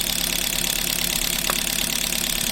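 A Suzuki Wagon R+ engine running on an LPG system idles with a steady, even hum and a faint knocking rhythm, heard close and alone with no talk.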